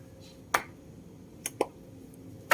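Plastic fog light connector on a Ford F-150 clicking into place during an amber switchback LED swap, a few sharp, quiet clicks spaced apart with no talk.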